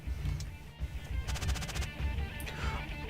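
Neighborhood fireworks popping in the distance on a June evening: a quick rattling string of crackles in the middle and a couple of separate bangs, muffled and far off over a low steady background rumble.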